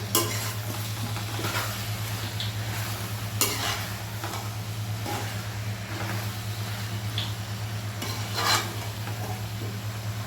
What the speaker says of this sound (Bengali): কাঁচামরিচ 5 মিনিট কষানো